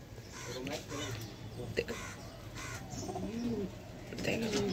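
Pigeons in a home loft give soft, rolling coos and a few faint chirps near the listener, repeating several times under quiet talk from a person.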